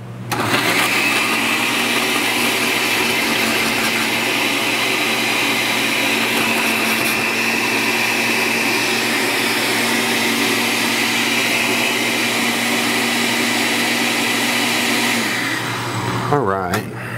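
An electric blender runs continuously for about fifteen seconds, pureeing sauce ingredients with added liquid in a home kitchen, a loud steady whirring drone that cuts off abruptly near the end.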